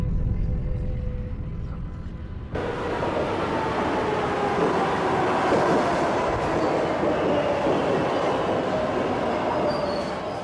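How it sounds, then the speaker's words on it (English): A New York subway M train rumbles along from Queens toward downtown Manhattan, a loud continuous roar of wheels on rails with squealing and clickety-clack, rising sharply after a quieter opening. "Patricia Massari catches the M train to downtown Manhattan"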